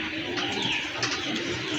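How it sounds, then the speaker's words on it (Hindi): A shy domestic pigeon gives a soft, brief coo close by, with low hum and faint background noise around it. "ये मेरे घर का शर्मिला कबूतर है"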